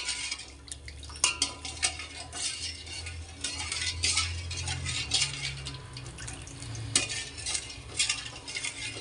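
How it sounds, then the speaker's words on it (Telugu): A spoon stirs sugar with powdered cardamom in a pan until it melts, making syrup for kala jamun: steady scraping and clinking against the metal with a soft sizzle underneath, and no talk. "కొద్దిగా చక్కెర మెల్ట్ అయ్యేంత వరకు కలుపుకోవాలి."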